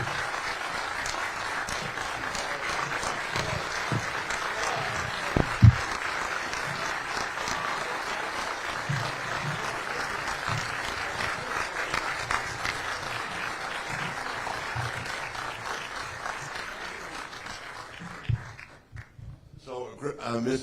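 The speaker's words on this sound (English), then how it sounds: "Big round of applause for Misty, guys." Sustained applause from a live-stream audience honoring Misty, a woman whose husband Steve has ALS; dense steady clapping runs for about eighteen seconds, with crowd voices mixed in, then tapers off near the end.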